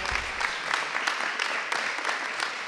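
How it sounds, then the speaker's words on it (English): A round of applause for children arriving at a public announcement of youth program funding, soft and fairly distant clapping from a modest crowd, steady and brief. "let's give a round of applause to the kids and their kids coming in"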